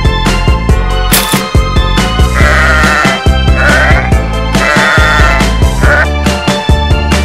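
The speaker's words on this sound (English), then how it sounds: "Sheep." Sheep bleating in repeated calls over loud children's background music, two clear bleats in succession.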